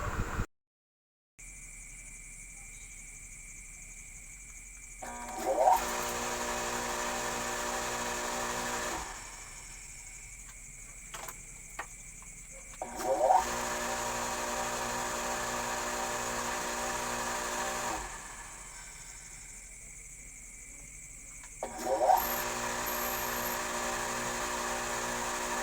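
Electric water pump motor, repaired after a faulty capacitor, runs in three separate bursts of steady high whining hum, each starting with a brief louder surge and then cutting off, close by with no talk.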